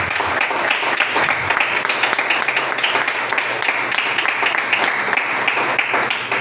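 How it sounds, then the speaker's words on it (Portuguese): A church congregation claps loudly and vigorously, a dense, sustained burst of applause at a constant, full level from start to finish. "com as palmas bem fortes."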